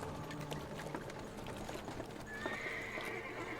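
Horse hooves clip-clopping at a steady pace in a video game, with a neigh and a rising mechanical whine over constant background game sound near a small farming settlement.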